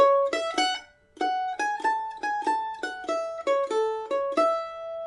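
A mandolin plays a quick melodic phrase of single notes from the Hesleyside Reel, crisp attacks in a lively rhythm with a short pause near the start.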